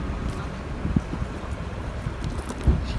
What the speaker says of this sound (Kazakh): жел